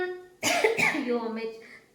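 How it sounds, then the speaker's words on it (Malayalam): A single sharp, close cough bursts out after a short pause, followed by a rough trailing breath, with a bit of vocal sound just after. "വീഡിയോ തുടങ്ങിയപ്പോൾ തന്നെ ചുമയ്ക്കുകയാണ് ഞാൻ"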